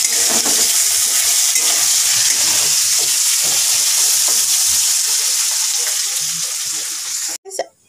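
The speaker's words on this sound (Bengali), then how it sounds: "আমি এখন আলু ভাজা করছি" Potatoes fry in a pan with a loud, steady sizzle and crackle that runs almost unbroken. It fades slightly near the end, then a brief clatter is heard.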